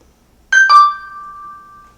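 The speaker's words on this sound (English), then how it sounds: "My tablet's giving me a notification." A tablet plays a short two-tone notification chime, bright and clear in a quiet room, with the second note ringing out and slowly fading.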